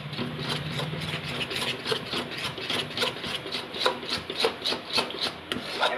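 A spoon stirs and scrapes a thickening cashew sweet mixture (kaju mithai) in a pan, making rhythmic, gritty rubbing strokes that repeat steadily and grow slightly more pronounced toward the end.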